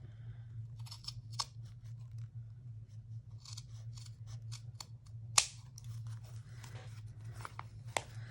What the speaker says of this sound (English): But I'm going to carefully trim off.